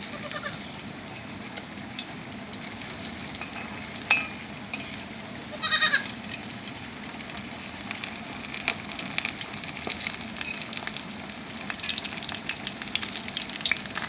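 Potato chops (aloo chop) fry in oil with a steady, even sizzle that runs the whole time. There is a short louder burst near the middle and a few faint background sounds.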